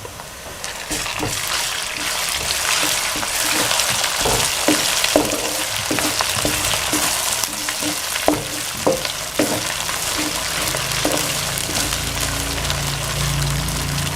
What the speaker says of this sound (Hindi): थोड़ा सा इनको फ्राई करेंगे,